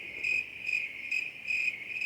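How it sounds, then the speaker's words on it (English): A cricket chirps in steady, evenly spaced pulses, about four short bursts a second, clear and alone over quiet background. "the producer would put cricket sounds in that part of my movie"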